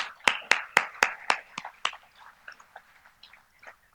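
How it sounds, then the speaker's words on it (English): At an award ceremony for an anniversary cocktail evening, a few people clap in a quick, regular run of about eight sharp claps that then thin out into scattered, fainter ones. "A round of applause,"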